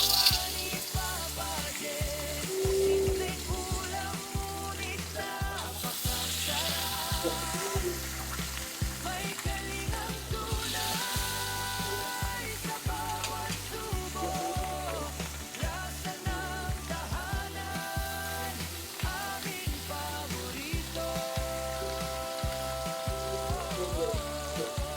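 Milkfish (bangus) steak sizzling in hot oil in a pan, a steady dense crackle and spatter that holds throughout at close range, with no talking.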